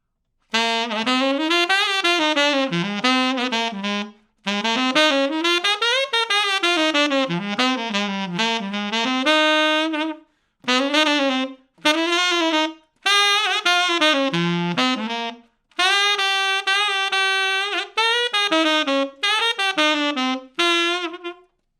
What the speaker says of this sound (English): So we're going to check out his solo from the bridge of